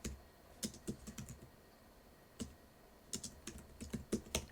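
Keys on a computer keyboard clack in short irregular bursts, close and fairly crisp, with pauses between groups of strokes and no talk.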